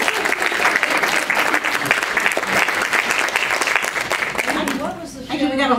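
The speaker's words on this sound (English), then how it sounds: "I think Amy needs a round of applause." Sustained, loud applause fills the room for Amy at a criminal justice reform panel, a dense wash of many hands clapping that fades out as someone starts speaking near the end.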